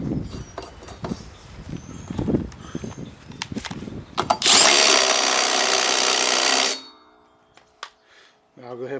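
A power tool bolts down the pulley on a Cub Cadet 833E mower deck spindle, a loud steady whir of about two seconds that cuts off abruptly, after earlier clanks and a voice talking.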